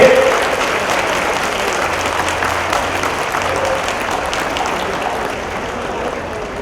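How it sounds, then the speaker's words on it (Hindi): Audience applause fills a Hindi public event honoring Mohan Bhagwat, dense clapping sustained for about six seconds at steady loudness and slowly tapering, with a faint voice briefly audible. "बेशुमार तालियां क्यों नहीं है?"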